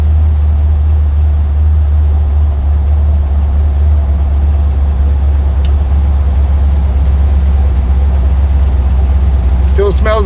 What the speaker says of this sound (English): Much throttle to get the old girl going.